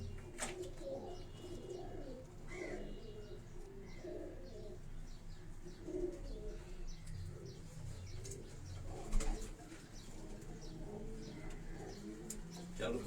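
Pigeons coo softly on a rooftop in Karachi, low repeated murmuring calls mixed with occasional chirps under faint background noise and some distant voices.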